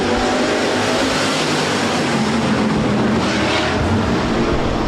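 Hobby Stock race cars roar off under green at the start of a dirt-track heat race at Rapid Speedway, a thick, loud wall of engine noise that stays steady and unbroken from start to finish.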